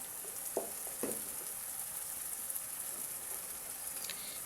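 Eggs poured over coconut sizzle steadily in a hot pan, a soft continuous frying hiss with a couple of brief louder spatters near the start as the eggs hit the oil.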